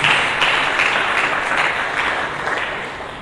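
A church congregation claps together for Jesus during a Sunday service, a loud, close, sustained burst of many hands with a few rhythmic swells before tapering off slightly.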